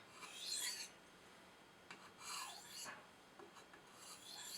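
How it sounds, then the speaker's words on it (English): A knife blade is drawn in featherweight passes over a polishing stone to remove the burr, at a slightly higher angle than it was sharpened; soft, close raspy strokes come in short bursts with pauses between. "doing featherweight passes over it just to make sure any burr is missing"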